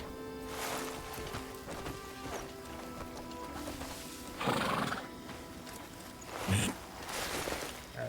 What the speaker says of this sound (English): I got a new horse.